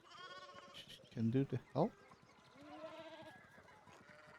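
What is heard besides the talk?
sheep bleating in the video game Pentiment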